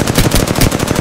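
Rapid automatic gunfire from a video game shooter, loud and continuous in quick repeated bursts across the whole moment, with no talk over it.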